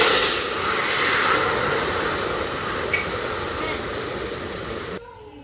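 Radhuni and cumin seeds sizzle in hot oil for a pabda fish curry, making a loud, steady hiss that fades slightly and then stops suddenly near the end.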